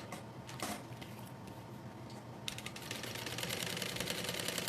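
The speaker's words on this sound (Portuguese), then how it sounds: "E vamos costurar aqui com o número 4." A sewing machine stitching a bag rattles with a steady mechanical clatter that grows slightly louder and busier partway through, close by and with no talking.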